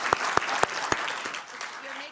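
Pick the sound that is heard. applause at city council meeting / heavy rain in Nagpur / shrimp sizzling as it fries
applause at city council meeting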